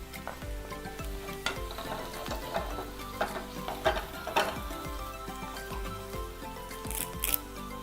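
Ginger and garlic frying in a pan with salt for a scrambled egg curry. Steady sizzling runs under intermittent stirring scrapes and clinks of a spoon, close and fairly quiet, with no voices.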